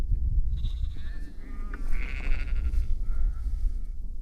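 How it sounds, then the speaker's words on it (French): Sheep bleat repeatedly on a windy farm field during an April visit to the Dutch island of Texel, several wavering calls rising over steady low wind rumble, with no talk. "Bien mignon ces moutons."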